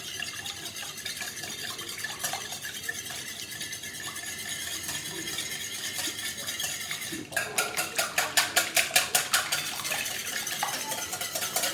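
Eggs and milk being beaten for a quiche lorraine cream, with steady scraping and stirring at first, then a run of quick rhythmic whisk-against-bowl clinks in the second half, close and fairly loud with no talking.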